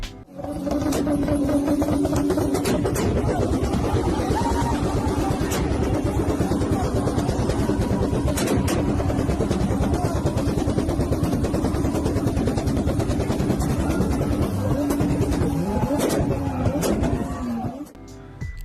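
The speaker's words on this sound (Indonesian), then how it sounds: "pasti kalian akan langsung kepikiran suara mesinnya yang kayak gini." A Toyota car with a 2JZ engine revving hard, rising and falling engine roar with repeated throttle blips, loud and close, heard alone without talk.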